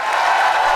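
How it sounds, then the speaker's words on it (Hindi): A studio audience applauds newlyweds on a comedy talk show, a brief, dense burst of steady clapping heard alone. "एक बार जबरदस्त और जोरदार तालियां होनी चाहिए।"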